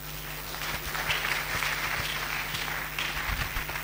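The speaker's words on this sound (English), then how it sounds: "let's keep clapping for our prof until he gets its seat" Conference attendees keep applauding a professor after his lecture at a thrombosis day event, a soft, sustained patter of many hands heard from a distance at low level.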